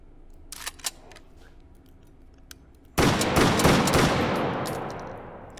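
An automatic shotgun firing in the VR game H3VR: after a few light clicks, a loud burst of rapid, closely spaced blasts starts abruptly, dense and close, tapering into a fading tail.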